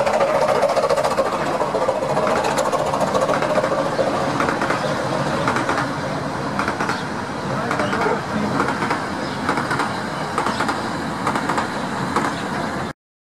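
A train rumbles steadily past near a back garden on a summer day, a continuous mid-distance roar with rattling clatter, while birds chirp faintly and a person speaks quietly over it.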